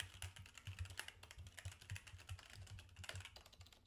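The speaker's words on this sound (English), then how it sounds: "if you're typing on your keyboard," Rapid, uneven keystrokes clatter on a computer keyboard, close and steady, with no one talking.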